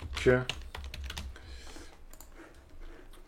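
Close, brisk taps on a computer keyboard as a shortcut is typed, a quick cluster of clicks followed by lighter keystrokes, with a voice briefly audible at the start.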